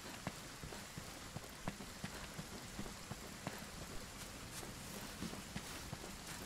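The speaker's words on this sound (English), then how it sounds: "And I love it when it's raining" Steady rainfall in the video game Monster Hunter World with scattered droplet taps on a hard surface, fairly quiet and continuous, no voices.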